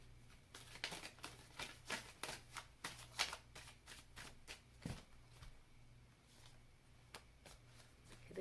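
Tarot cards are shuffled close by with a quick run of soft riffling flicks, then a few slower taps as the deck settles, quiet and without talk.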